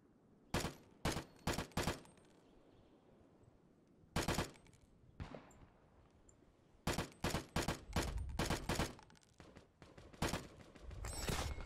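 Bursts of automatic gunfire in the shooter game Tip Of The Spear: Task Force Elite, several rapid volleys separated by quiet gaps, then heavier sustained fire near the end, loud and close.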